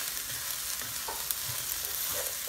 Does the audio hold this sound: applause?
no